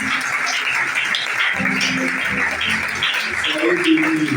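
A church congregation applauds to acclaim God, steady sustained clapping and cheering throughout, with voices mixed in and a preacher's voice rising near the end.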